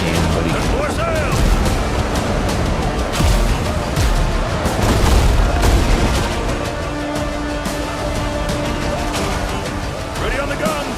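Heavy ship cannons in the Windrose naval video game fire in repeated deep booms and crashes across a chaotic battle, with overlapping crew shouts and a voice talking through the barrage.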